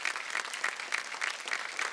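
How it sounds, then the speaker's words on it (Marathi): Steady audience applause on a Marathi TV game show stage, dense and continuous clapping from a studio crowd for about two seconds, ending with a brief low thump. "एकदा जोरदार टाळ्या होऊन जाऊ दे, जोरदार टाळ्या"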